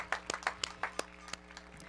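Scattered applause from a graduation crowd at a 2021 high school ceremony, honoring parents: a handful of sharp, uneven claps at moderate distance, fairly faint and thinning out over a couple of seconds.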